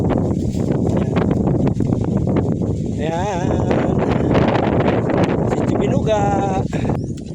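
Wind gusts across a hilltop at Sitio Binuga, rumbling steadily into the microphone. Someone talks over the constant buffeting.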